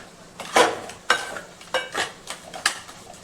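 A spoon stirs crab masala curry in a pan in a series of scraping, clattering strokes against the metal, with a soft sizzle of oil underneath, close and fairly clear.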